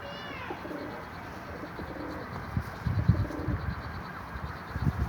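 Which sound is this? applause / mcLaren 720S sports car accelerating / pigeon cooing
pigeon cooing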